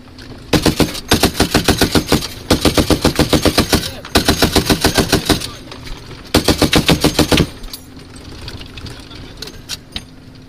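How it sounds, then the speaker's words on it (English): .50 caliber machine gun firing from a Humvee turret, loud sustained bursts of rapid shots in five separate strings, then brief scattered pops after a pause. "You'll hear the 50 cal."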